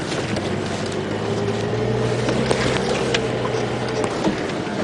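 A safari vehicle engine idles and creeps along in its lowest gear at low, steady revs, a soft continuous hum with faint rattles and no talking.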